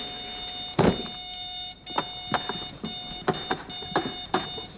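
An alarm rings in a steady electronic tone from start to finish, broken by a series of sharp knocks and thumps at irregular intervals, fairly close and without talk.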